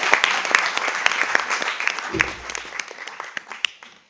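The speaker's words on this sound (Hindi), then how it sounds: "एक बार जोरदार तालियां" An audience claps enthusiastically at a MyRecharge company gathering, a brief burst of crisp, close applause over about four seconds with a short spoken interjection partway through, fading at the end.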